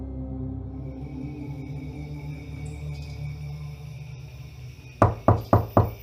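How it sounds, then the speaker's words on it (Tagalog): Knocks on a door, four sharp raps in an even rhythm, loud and close, following a steady low hum in a quiet room of an old ancestral house. "Napalingon kaming dalawa nang marinig naming may kumakatok sa pinto"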